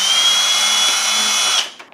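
A power drill whines steadily as it bores straight through the center of a Spirit Halloween 80%-size Ghostbusters ion arm prop, running for about a second and a half before cutting off.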